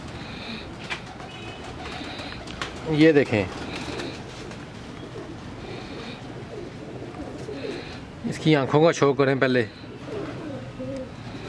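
Pigeons coo in bursts, a couple of rolling cooing phrases under someone talking, with faint background chatter between calls.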